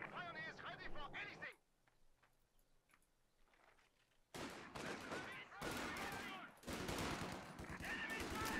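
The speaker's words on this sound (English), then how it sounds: "Could take some quite heavy damage here from the MG42." Bursts of MG42 machine gun fire in the World War II strategy game Company of Heroes 2, loud rattling volleys mixed with other battle noise, with a voice talking over the start and a quieter lull in between.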